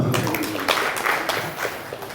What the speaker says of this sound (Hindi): तो पहले तालियां बजा दो